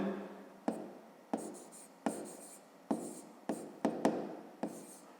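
Pen writing by hand on paper while working out a fifth-grade maths exercise, a close series of about eight scratchy strokes with sharp onsets at an uneven rhythm, no voices.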